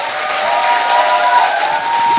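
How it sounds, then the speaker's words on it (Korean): A studio audience at a Korean talk show breaks into a loud, continuous round of applause for courageous guests, dense clapping with a few faint cheers that holds steady throughout. "이렇게 용기를 내서 오신 분들 사장님한테 진짜 큰 용기 박수 좀"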